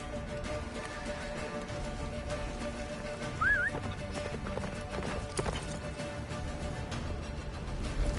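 Horse hooves in The Witcher 3 beat out a steady clip-clop at a gallop, close and fairly loud above a dense wash of game music and ambience, with a brief whinny partway through.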